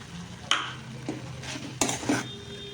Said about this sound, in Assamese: এতিয়া গুড়খিনি ঢালি পুৰা লাৰিব লাগিব এতিয়া লাৰি থাকিব লাগিব